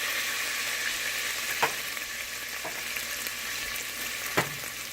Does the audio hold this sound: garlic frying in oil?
yes